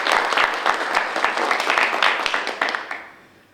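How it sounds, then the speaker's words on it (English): An audience at a law school inter-regional moot court competition applauds the teams with dense, even clapping that holds steady for about three seconds, then fades away. "Let's give them a round of applause."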